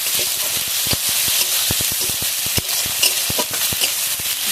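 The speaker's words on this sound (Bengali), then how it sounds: "দিয়ে এবার মশলাটা ভালোভাবে কষিয়ে নেব।" Spiced masala with turmeric, coriander and cumin powder frying in a pan for crab curry, loud hissing sizzle with sharp irregular clicks of a spatula scraping and stirring, close and without voices.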